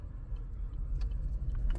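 Steady low engine rumble and road noise from inside a car driving home after the gym, a continuous close hum with faint ticks and no talking.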